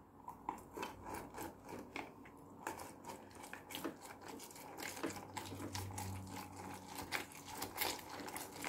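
Lemon and ginger squeezed firmly by hand, giving a run of wet squelching, rasping and crackling bursts that repeat irregularly at close range with no talking.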